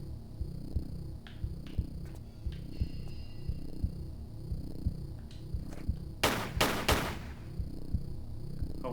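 Gunfire in the Tomb Raider Remastered video game: two sharp, loud blasts in quick succession near the end, cutting through a steady looping rhythmic game soundtrack.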